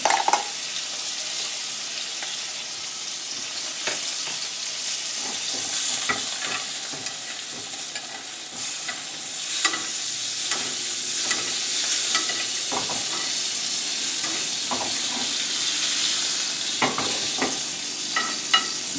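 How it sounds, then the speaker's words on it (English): A filet steak sears in a hot pan with a steady, loud sizzle and frying hiss, punctuated by scrapes and clinks of stirring and turning throughout, with no talk. "Remember, we're only searing it out here."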